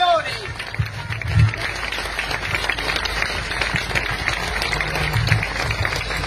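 An outdoor crowd at a political party festival applauds loudly and continuously, with dense clapping and some thumps or handling noise mixed in.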